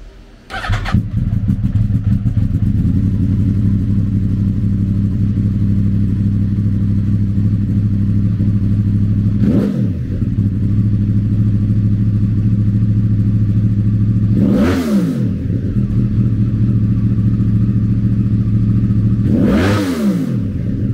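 A 2012 Yamaha YZF-R1 1000 sport bike engine starts and settles into a loud, steady idle, then three sharp throttle blips rise and fall at intervals, close by with no talking.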